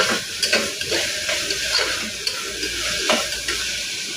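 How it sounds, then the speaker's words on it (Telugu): Ginger paste and turmeric fry for chicken pulusu, a loud, close sizzle with regular spoon taps and scrapes against the pan as the mixture is stirred. "అల్లం పేస్ట్ వేసుకోవాలి పసుపు ఇవన్నీ బాగా కలుపుకోవాలి"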